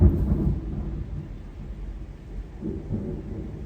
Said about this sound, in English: Big thunder again.